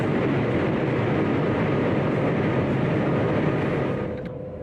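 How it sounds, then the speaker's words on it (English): A steady, loud rushing rumble of a maglev train travelling to Pudong International Airport, broad and continuous, easing off slightly at the very end. "take the maglev, the world's fastest magnetic levitation train"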